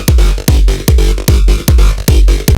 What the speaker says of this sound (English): acid bass line with this like